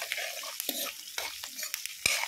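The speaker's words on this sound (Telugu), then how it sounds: "కరివేపాకు, పెరుగన్నం దద్దోజనంలో తాలింపు ఎంత బాగుంటే అంత టేస్ట్ వస్తుందండి." Curry leaves and asafoetida crackling in hot oil as a tempering for temple-style curd rice, a soft continuous sizzle broken by several sharp spoon stirs and scrapes against the pan, close up with no talking.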